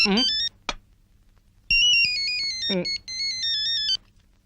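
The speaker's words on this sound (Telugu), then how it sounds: "ఫోన్." A loud electronic phone ringtone plays in repeated melodic bursts, pausing briefly between phrases, close and clear.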